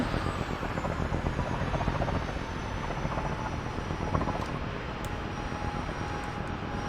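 An aircraft engine idles on the ground in Microsoft Flight Simulator, a steady, even drone with a high whine that holds constant throughout and has no voices over it.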